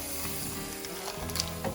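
Crab pieces sizzle and fry in a tomato masala for a Kerala-style crab roast as they are stirred, a steady crackling hiss with occasional scraping and clinking from the pan, close and continuous.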